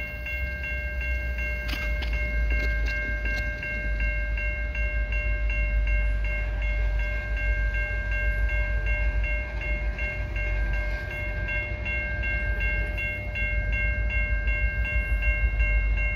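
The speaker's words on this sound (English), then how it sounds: "this might be the train I was waiting for" A CN transfer freight train rolls past at night in light rain at Des Courcelles Street, a continuous heavy rumble with steady tonal ringing throughout, and no voices.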